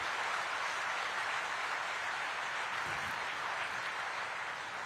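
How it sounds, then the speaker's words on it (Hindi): Loud, sustained applause from a large audience at an Indian Navy ceremony in Kochi, steady dense clapping filling the whole stretch without pause. "एक बार जोरदार जानदार तालियों के साथ अपनी भावनाओं को व्यक्त कीजिए"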